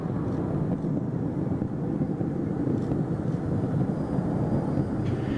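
Space Shuttle Atlantis climbs away from Kennedy Space Center on its final flight, a steady, dense, rumbling roar heard from afar and holding constant throughout.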